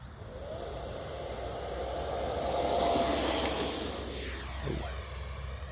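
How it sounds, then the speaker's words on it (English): A FlyFans twin 64mm EDF SU-27 Flanker RC jet flies past with a loud, high ducted-fan whine that rises in pitch, holds, then dips and fades slightly as it passes overhead, with no voices. "let's get ready with flight number 2 of the FlyFans twin 64mm SU27"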